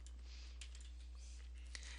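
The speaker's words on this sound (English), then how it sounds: "here I'm just going to start typing in my referral source's name" Fingers type on a computer keyboard with quiet, irregular clicks and a few sharper taps over a low steady hum, faint and close with no talking.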